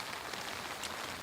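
Hard rain shower pouring down at an elk hunting camp, a dense, steady hiss of drops drumming on surfaces with no voices.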